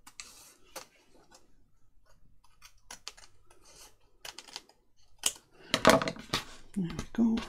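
Scissors trimming a paper envelope, a series of quick crisp snips and paper rustles, close and clear, with a voice speaking near the end.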